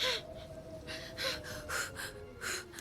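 A person breathes heavily in ragged, rhythmic gasps and sharp inhalations, close and strained, over a low steady background hum.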